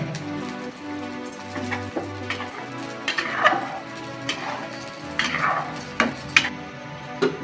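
Fish curry with papaya cooks in a pot just after hot water is added, giving a soft bubbling simmer and light sizzle with occasional close clinks and stirring scrapes of a utensil against the pot.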